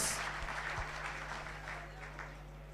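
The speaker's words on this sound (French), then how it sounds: "Voilà encore une fois de plus nos acclamations pour ces jeunes slameurs." Applause from an audience cheering young slam poets at a performance, a dense steady wash of clapping that is strongest at the start and slowly eases off over a low hum.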